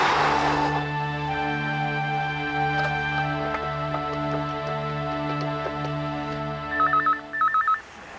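Telephone ringing in a household in a Hindi TV serial, a short electronic ring pattern sounding twice near the end over sustained background music tones, clear and fairly close.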